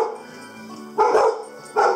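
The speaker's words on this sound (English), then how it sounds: "barking at the new light that I just put in." At an off-grid house, a dog barks at a newly installed light: two loud, close barks about a second apart over a low background hum.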